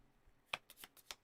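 Board game cards being shuffled, a few quiet crisp riffles and snaps close by in an otherwise quiet room.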